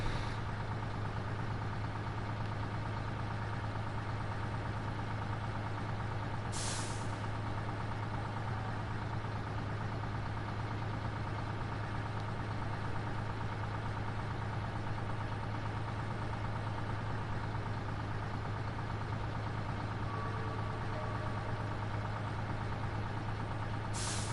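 Heavy truck engine idling in the Snowrunner video game, a steady low drone that holds unchanged throughout, with a couple of brief hissing bursts.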